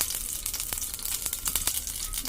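Whole cardamom, cloves, cinnamon and peppercorns crackle in hot oil, a steady close sizzle broken by sharp irregular pops and spits throughout, with no voices.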